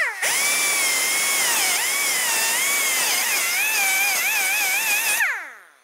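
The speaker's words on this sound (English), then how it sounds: "You can remove these using a drill or a cutting tool." Power drill grinding out rivets on the rear brake backing plate of a 1998-2002 Lincoln Navigator, a steady loud high whine for about five seconds with shifting pitch, then spinning down abruptly.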